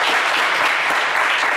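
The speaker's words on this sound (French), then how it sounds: "on vous applaudit" A studio audience on a television game show gives brief, loud, dense applause.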